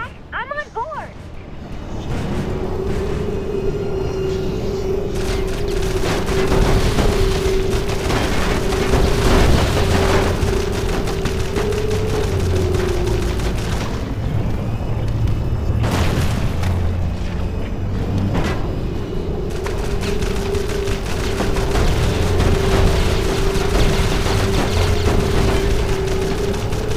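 Shooting and explosions in the Jak and Daxter video game, with dense broadband bursts of gunfire and booms running throughout over a steady engine-like drone, while voices speak over the action.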